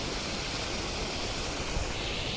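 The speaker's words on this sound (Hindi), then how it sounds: "वो है झरना।" Waterfall heard alone as a steady, dense broadband roar of falling water, close and even in level throughout with no break, no talking over it.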